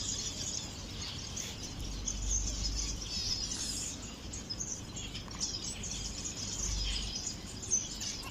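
Birds in an aviary-style bird reserve keep up faint, continuous high chirping and twittering, with a soft low background hum underneath and no talking.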